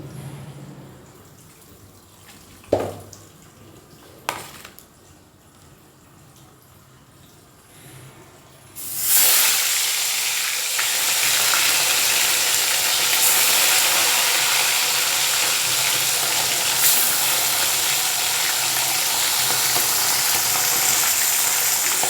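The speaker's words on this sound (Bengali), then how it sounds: "এদিকে কড়া তেল হয়ে গেছে, এবার একে একে মাছগুলোকে আমি ভেজে নেব।" Tilapia fish are lowered into hot oil in a karahi, setting off a loud, dense sizzle that holds steadily to the end after a few quieter clinks and knocks.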